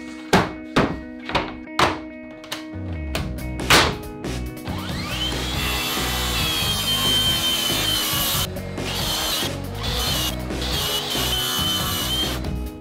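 Several sharp wooden knocks, then a hand saw rasps through a 40 cm strip of wood in a steady back-and-forth rhythm, loud and close.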